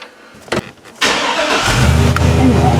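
A Chevy truck engine cranks and catches at about one second, then settles into a loud, steady idle. Quieter rustling comes before it.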